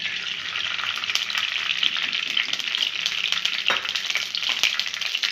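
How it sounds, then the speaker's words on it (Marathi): Semolina roasts in ghee in a hot kadai, giving a close, steady frying sizzle broken by a few scraping stirs, with no voices. "त्यामध्ये आता तूप टाकून घेणार आहे मी। आपल्याला रवा भाजून घ्यायचा आहे।"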